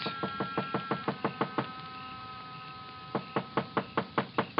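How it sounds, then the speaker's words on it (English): Rapid knocks on a door come in two bursts of about eight raps each, separated by a short pause, fairly close and crisp. "I knocked."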